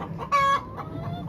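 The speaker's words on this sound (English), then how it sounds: "These are some broody hens. So these are hens that want to be moms right now." Broody hens give soft, scattered clucks, then one louder drawn-out squawk comes close by over a low steady murmur.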